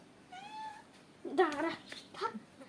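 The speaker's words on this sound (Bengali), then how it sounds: "এই বিড়াল কোথায়? ওই যে বিড়াল, ওই যে বিড়াল।" A cat gives a soft meow, followed by a couple of louder meows close by, with people talking quietly in the background in a home kitchen.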